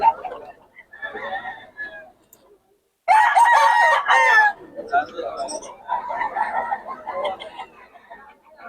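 Roosters crow loudly and close by at a cheap gamecock market in Bocaue, one long strident call in the middle, with clucking around it and someone talking at times.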